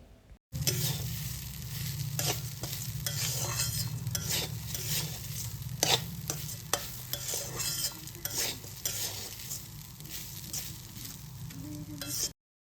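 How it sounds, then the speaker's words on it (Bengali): Soaked rice frying in a kadai over a lowered gas flame, with a constant close sizzle broken by repeated scraping strokes of a spoon stirring the grains, no talking. "চাল দেওয়ার পর গ্যাসের আঁচ কমিয়ে চালটাকে 2-3 মিনিট মতো ভালোভাবে ভাজবো"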